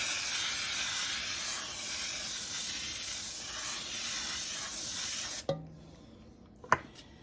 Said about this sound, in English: We're going to use our baking spray and spray the inside of our baking pan.